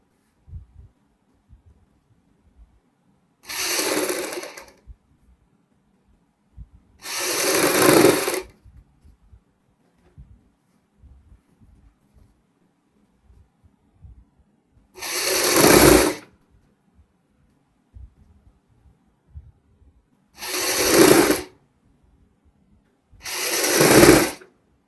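A sewing machine stitches a kurti in five short bursts of running needle noise, each lasting about a second, separated by pauses of near silence.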